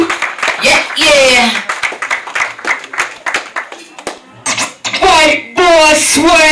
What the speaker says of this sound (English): y'all start clapping y'all for Absolute